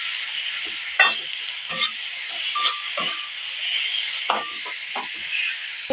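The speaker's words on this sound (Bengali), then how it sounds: "দিয়ে আমি একটু নেড়ে নেব" Small chicken pieces coated in turmeric sizzle quietly in a pan as a spatula stirs them, giving a series of scraping, clacking strokes over a soft, steady hiss.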